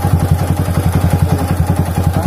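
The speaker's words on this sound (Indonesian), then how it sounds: "Motor hidup ya Kang Bro, tapi suaranya kasar," Close, loud Yamaha Vixion motorcycle engine with a modified carburetor and faulty ignition, idling roughly, with a fast uneven thumping pulse and a clattery mechanical knock throughout, no speech.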